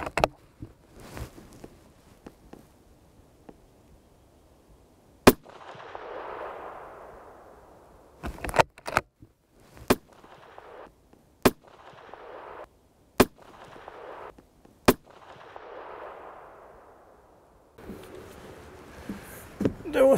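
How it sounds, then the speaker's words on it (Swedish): A Sauer 404 rifle fires at a target on an outdoor range. Several sharp, loud single shots are spaced a second or more apart, with soft wind rustle between them. "Så vi ska ta och kolla på hur den här skjuter."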